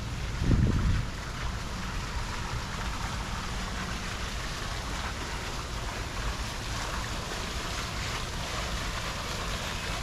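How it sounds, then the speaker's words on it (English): Water flows steadily at a resort in Akumal, a soft continuous rushing wash with one brief louder splash near the start. "Hear the sound of water."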